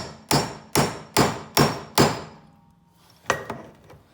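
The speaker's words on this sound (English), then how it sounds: "You use a hammer, you take it, and you turn it like so" Five loud, evenly spaced hammer blows on an impact screwdriver loosening a screw on a Yamaha Banshee, followed by quieter metallic clinks as the tool is handled.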